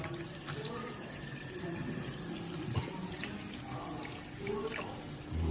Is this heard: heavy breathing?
no